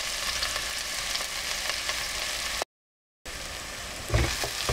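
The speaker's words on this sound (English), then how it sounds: "Then the garlic and some onions, and I'm going to fry this about 1 minute now." Garlic and onions frying in a pan for mushroom pilaf, a close, even sizzle broken by a brief dropout of silence, then resuming with a louder scrape or clatter toward the end.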